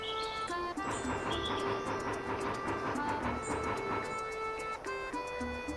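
A train rolling along in the video game Bounty Train, a steady mechanical rumble and rhythmic clatter with repeated clicks and tonal whistle-like hums running continuously without a break.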